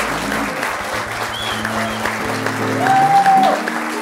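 A studio audience applauds a band on a Macedonian talk show, a sustained wash of clapping that swells toward the end, mixed with music from the stage.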